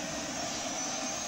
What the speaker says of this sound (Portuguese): Só para escutar a APU ali